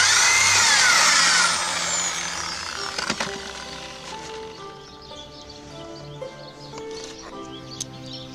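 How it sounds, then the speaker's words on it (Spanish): A power drill bores three holes through two washers, a loud whining burst at the start easing into a steadier, quieter grinding with a few sharp clicks, no voices. "Hacemos 3 agujeros a 2 arandelas."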